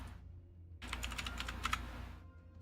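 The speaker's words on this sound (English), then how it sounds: "Let me type ammo." Rapid bursts of clicking keystrokes on a computer keyboard, close and crisp, running for about a second and a half between quieter stretches of room hum.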